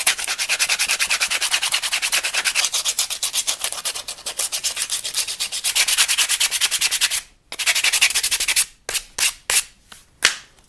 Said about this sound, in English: I'm going to start with some 60 grit just to round over all the edges and make it nice and smooth.